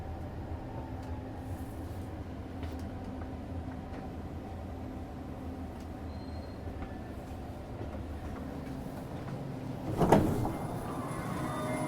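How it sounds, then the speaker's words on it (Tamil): REM train doors slide open at a Montreal station, a brief clatter and whoosh rising over the steady rumble of the stopped train. "கதவு திறந்து மக்களே இறங்கியாச்சு"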